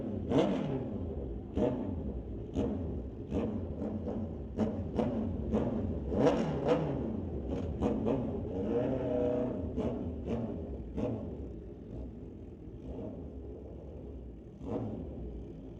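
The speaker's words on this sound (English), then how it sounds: "He'll face off against Ken Christensen in his 2012 Kawasaki." Suzuki Gixxer and 2012 Kawasaki drag-racing motorcycles at Mission Raceway Park: a steady engine rumble broken by repeated sharp revving bursts at moderate distance, easing off toward the end.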